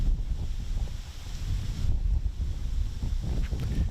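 Strong wind buffets the microphone outdoors on a disc golf course, a steady low roaring rumble with gusting swells and no voices.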